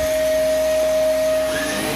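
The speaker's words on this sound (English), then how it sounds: "So let's get started with the vacuuming." A vacuum cleaner runs over carpet during a carpet-cleaning job, a loud, steady motor whine with a constant high tone that holds unbroken, close to the microphone.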